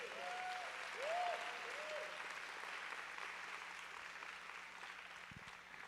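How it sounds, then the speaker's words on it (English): Applause from a symposium audience on cultural equity, a steady wash of clapping at moderate distance, slightly swelling early and then holding evenly for several seconds. "please clap for Norella"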